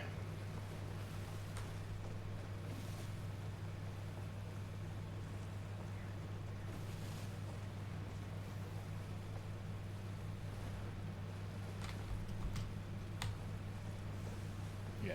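A sailing ship at sea in the Sea of Thieves video game, with a steady low rumble and constant water wash running without a break, with no talking.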